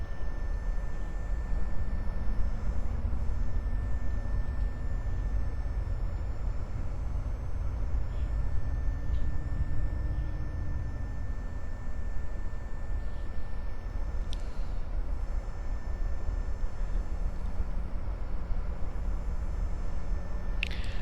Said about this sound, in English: with idle thrust, we're already very slowly starting to move